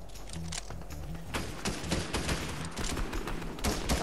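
Dense, rapid gunfire in Fortnite, a video game, with overlapping shots in quick fusillades. It starts lighter and builds into louder, continuous volleys, and there is almost no talk.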